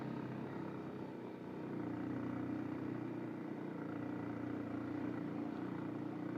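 A motorcycle engine droning steadily while riding on a trip from Palpa to Arghakhanchi, a continuous low hum with the pitch rising slightly partway through.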